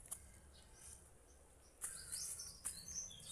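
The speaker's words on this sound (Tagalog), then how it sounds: "Naririnig ko yung huni ng ibon." Faint, high bird chirps sound intermittently at a distance over a soft background hiss, with a couple of slightly louder calls near the end.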